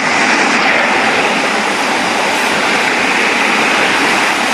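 Water gushes hard out of a 10-inch pipe fed from a stream intake, a loud, steady, broadband roar close by with no pauses.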